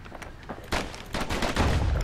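Dueling pistols fire in the action game Bastion, a rapid flurry of sharp shots in quick succession that grows denser and louder, ending in a heavier burst with low rumble.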